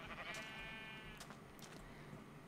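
Sheep in the video game Minecraft bleat in a near, clear call with wavering harmonics, followed by a couple of shorter bleats over a quiet farm background.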